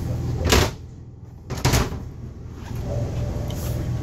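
A door inside a 2016 Coachmen Mirada 35BH motor home is moved, with two distinct close knocks about a second apart, then a quieter faint rattle over a low interior hum.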